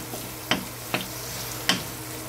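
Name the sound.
garlic and onion sautéing in a pan for pork binagoongan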